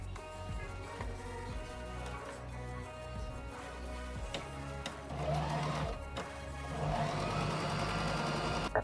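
A sewing machine stitches seams on a leather trench coat, a quiet rattling whir that speeds up in the latter half, with small clicks and no voices.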